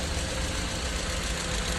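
Mercedes W210 with an M111 engine idling with a faulty sound, a close, dense, steady engine rumble with a rough, knocking low end and no voices.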